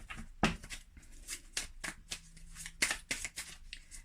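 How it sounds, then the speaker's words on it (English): A tarot deck is shuffled by hand at close range, with a quick run of crisp riffling and slapping bursts, some louder snaps among softer flutters and no talk over them. "So we're going to go ahead and shuffle the cards"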